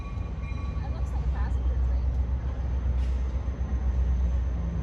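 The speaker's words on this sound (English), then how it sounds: "I got a train. I hear a train too." A passing train gives a steady, heavy low rumble that fills the whole stretch evenly, with faint background voices underneath.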